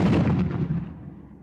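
Heavy breaching charges blast open a fortified compound gate during an Afghan commando assault, a loud, close explosive boom with a broad rumbling body that decays over a second and a half.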